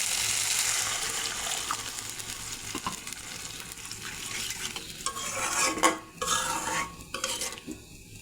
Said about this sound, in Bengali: তো এবার আমি গরম জল দিয়ে দেব।